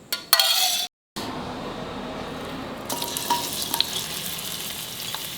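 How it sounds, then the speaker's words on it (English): Onions fry in coconut oil in a pan for an egg curry, giving a close, steady sizzle with occasional scrapes and clinks of a spoon. A brief silent break comes early, and the frying grows brighter toward the end. "Fry the onions well."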